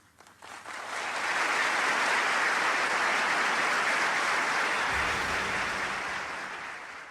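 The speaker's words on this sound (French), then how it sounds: "Le tonnerre d'applaudissements qui salue le discours d'Arafat" A large audience breaks into thunderous applause after a speech by Yasser Arafat, building quickly into a dense, sustained roar of clapping that holds steady before slowly tapering off, with no voices over it.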